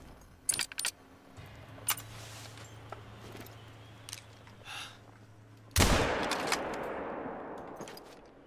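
A single rifle shot at a big cat in a hunting video game bursts out sharp and loud near the end, its echo trailing off, after a stretch of faint rustling, clicks and a low steady hum.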